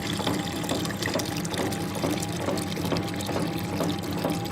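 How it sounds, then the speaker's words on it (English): Water draining out of both sides of an ice cream machine at the end of its cleaning cycle, a steady, fairly loud running and splashing flow with a faint hum beneath it and no talking. "see how we've run the water from each side out again"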